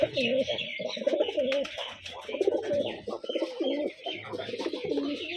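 Giribaz pigeons coo in repeated low, throaty phrases, close by, with occasional chirps and rustling in between.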